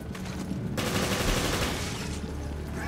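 Gunfire in Resident Evil: Revelations comes as a sustained rattling burst of rapid shots, close and fairly loud, with quieter shots before and after it.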